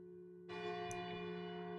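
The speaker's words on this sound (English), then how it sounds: "The village bell begins to peal, reverberating with utter clarity through the distant mountains" A village bell in the video game Lost Odyssey strikes once and rings out, a sustained clear peal with bright overtones over a quiet musical drone.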